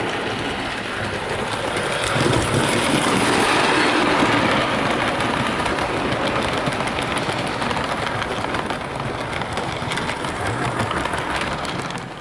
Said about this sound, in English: have Evening Star pulling the maroon stock around the layout